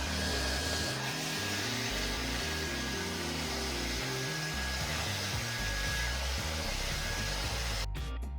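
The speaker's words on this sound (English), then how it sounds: "Probably the best part of this is doing the last bit of drying with a hairdryer" A hairdryer blows steady and loud on a freshly shampooed wind bubble, a continuous broadband whoosh that runs unbroken and close before cutting off near the end.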